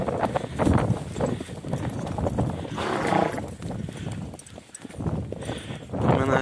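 Horses' hooves clip-clopping on the ground at a horse sale, a steady close rhythm of hoof strikes under a loud, busy background with voices.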